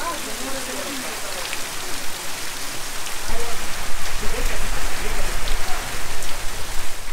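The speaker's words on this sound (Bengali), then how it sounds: "বরফের রীতিমিতি শিল পড়তেছে এই বৃষ্টির মধ্যে।" Heavy rain with hailstones pours down at Birishiri, a dense steady hiss that swells louder halfway through, with scattered sharp impacts close by.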